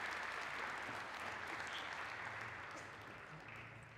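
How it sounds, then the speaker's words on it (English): An audience at an open-house presentation on hydrogen and sustainable energy claps in steady, dense applause that carries on evenly and eases slightly toward the end, heard from within the room. "Give him another great big round of applause."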